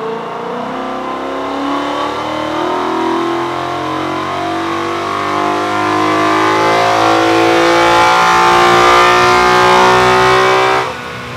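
A Ford Mustang with a Gen 1 Coyote V8 fitted with a 2018 truck intake manifold revs hard, its loud engine note climbing steadily in pitch over several seconds before cutting off abruptly.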